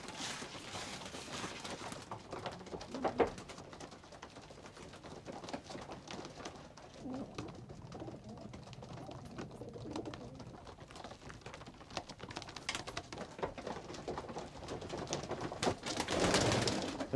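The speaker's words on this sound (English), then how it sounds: "We have lots of pigeons here." Racing pigeons in a loft coo softly and intermittently against a busy, noisy background, with faint rustling and a louder burst near the end.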